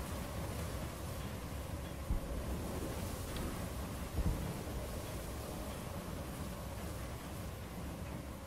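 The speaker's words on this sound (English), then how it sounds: "this storm is kind of being a pain in the balls" A thunderstorm rolls through the Fallout New Vegas wasteland as a constant rushing wash of rain and wind, broken by a couple of low thumps of thunder, with no voices.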